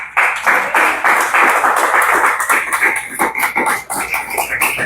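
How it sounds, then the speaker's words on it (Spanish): A church congregation clapping together during a service, loud dense applause with rhythmic hand claps filling the room continuously from start to finish. "Vaya, dele palmas al Rey"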